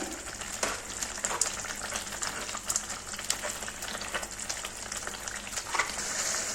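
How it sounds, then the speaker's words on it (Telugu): Bread pieces are stirred and mashed into sugar syrup in a pan over a medium flame while making bread halwa, giving a steady soft sizzle with scraping and squishing strokes throughout. "మీడియం ఫ్లేమ్లో పెట్టుకొని అంతా మొత్తం కలుపుతూ ఉండాలి ఇలా ఈ మొత్తం బ్రెడ్ ముక్కలని ఇలా నలుపుతూ ఉండాలి"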